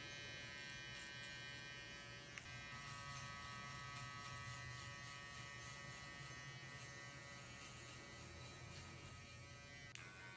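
A finale foil shaver buzzes steadily and close up while balding out the sides of a low taper fade haircut, a continuous high whine with no talking.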